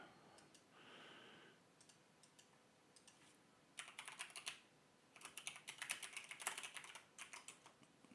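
Fast typing on a Mountain Everest Max mechanical keyboard, quiet at first with scattered clicks, then dense bursts of rapid key clacks close to the microphone, with no voices.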